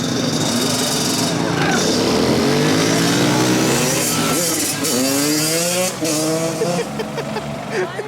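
Drift cars, one a Corvette, run in a Riverside drift competition with engines revving and rising in pitch and tires screeching. The sound is loud and continuous, with a commentator talking over it.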